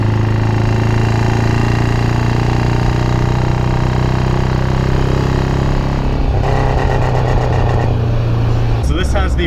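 A 1973 Saab Sonett's 1.7 V4 engine idles with a loud, steady low rumble throughout, and a faint rattling change appears toward the end.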